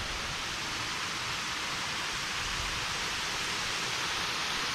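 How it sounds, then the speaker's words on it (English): A waterfall spills over the dam at Quanah Pond, a lake set between hills, producing a steady, broad rushing roar that holds constant throughout with no other sounds or voices. "Here's the waterfall."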